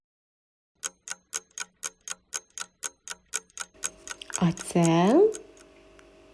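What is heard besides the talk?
clock ticking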